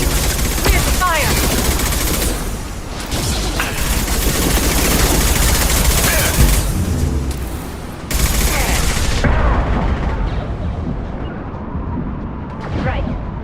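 Rapid automatic gunfire from a Mass Effect 2 firefight, dense bursts and loud booming shots filling most of the stretch, with battle noise and some in-game voices mixed in before the barrage thins out near the end.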